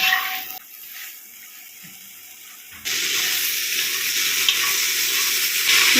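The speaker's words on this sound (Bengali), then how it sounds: "ফ্লেমটা একটু কমিয়ে দিয়ে ঢ্যাঁড়সটা ভালো মতো ভেজে নেব" A pan sizzles steadily as okra fries over lowered flame after a quieter start, the frying hiss jumping up loudly and continuing without a break.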